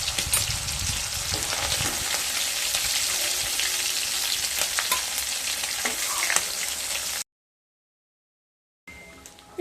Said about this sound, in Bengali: চিংড়ি মাছগুলো ভাজা হয়ে গেছে।